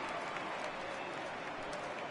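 Baseball stadium crowd from a PS4 video game, a steady broadband roar of cheering and scattered applause holding at an even level for a couple of seconds, with no clear talk on top.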